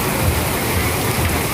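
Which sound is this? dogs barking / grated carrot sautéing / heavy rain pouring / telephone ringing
heavy rain pouring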